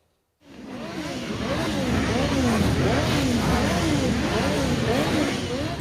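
Motorcycles roar together at a funeral in Italy, engines revving with rising and falling pitch, loud and continuous for several seconds, with voices mixed in underneath.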